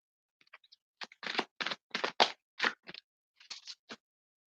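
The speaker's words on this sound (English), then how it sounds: "A big deck, so it's kind of a little hard to shuffle" A large deck of oracle cards being shuffled by hand: quiet, close papery riffles and slaps in short irregular bursts, separated by silence.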